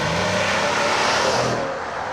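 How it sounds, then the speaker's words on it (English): Engine and exhaust note of a 2013 Mercedes-Benz ML550 4MATIC luxury SUV, a steady, loud broadband roar with no talking over it. "it offers an unexpectedly sporty exhaust note for a luxury vehicle"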